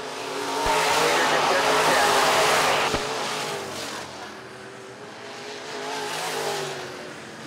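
IMCA modified race cars roaring around a dirt oval at night, a loud sustained engine drone that swells and fades as the pack passes, with an announcer talking over it.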